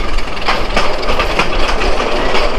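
Loud, close rumble of a Narayanganj commuter train rolling on rails into Narayanganj station platform in Bangladesh, with rhythmic clattering of wheels over track joints.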